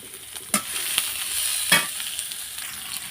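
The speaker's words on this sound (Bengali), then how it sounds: "পেঁয়াজ আর মরিচ কুচিটা আমি এখন 2 মিনিটের জন্য ভেজে নেব" Chopped onion and chili frying in oil, with a steady broad sizzle and a few sharp scraping stirs of a utensil against the pan; no talking.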